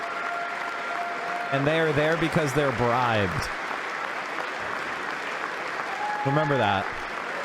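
Sustained applause fills a congressional chamber during a standing ovation, a steady broad wash of clapping heard under a voice talking over it.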